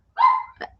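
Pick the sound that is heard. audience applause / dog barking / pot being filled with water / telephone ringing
dog barking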